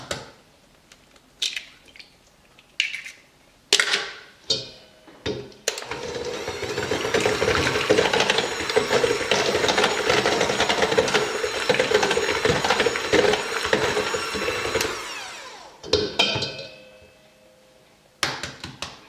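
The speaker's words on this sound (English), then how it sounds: "I am just using my hand mixer today because it's just simple." A hand mixer blends wet ingredients for a zucchini coconut lime quick bread, a steady loud motor whir lasting about ten seconds, with a few knocks and clatters before and after.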